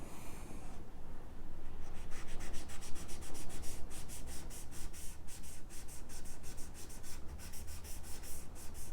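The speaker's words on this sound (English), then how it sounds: "you can easily rub off paint as well, as you can see" Paint is rubbed off a smooth painting panel with rapid, continuous scrubbing strokes, a close, dry, rhythmic rasping that runs steadily throughout without talk.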